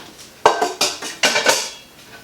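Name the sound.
pots clattering while fitting pumpkins into Instant Pot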